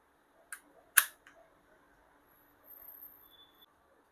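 A couple of sharp plastic clicks and a firmer snap as a CO2 cartridge magazine seats into a Glock 17 airsoft pistol, close and isolated, followed by faint handling rustle.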